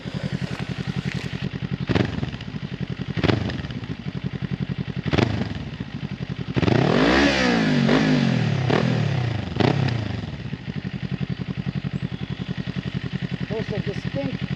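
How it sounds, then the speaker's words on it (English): A 2021 Kawasaki Ninja 400 fitted with an Akrapovic carbon slip-on exhaust, baffle in, idles with a steady purring thrum, blips its throttle several times, then roars past in a loud, rising-and-falling flyby before settling back to idle. "There's a distinct purr about the Akrapovic that just sounds amazing, even with the baffle on."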